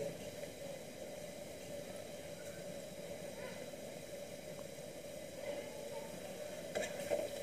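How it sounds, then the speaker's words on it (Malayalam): Unnakkaya, the Malabar plantain snack, fries in hot oil with a steady, even hiss that fills the whole stretch, a faint rise near the end. "ഫ്രൈ ചെയ്ത് വരുന്നുണ്ട് നമ്മുടെ ഉന്നക്കായ"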